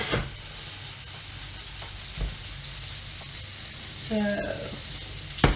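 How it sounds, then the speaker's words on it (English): Butter melting and starting to froth in a pan for crispy sage butter, giving a steady soft sizzle throughout with a brief spoken word near the start and a few light clicks. "my butter's melting nicely. It's starting to froth"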